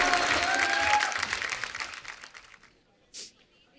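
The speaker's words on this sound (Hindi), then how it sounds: "तो एक बार फिर से जोरदार तालियां ऋतिक रोशन और वानी कपूर के लिए।" Loud studio audience applause on a comedy talk show, dense clapping and cheering that fades out over about three seconds, followed by a brief faint sound near the end.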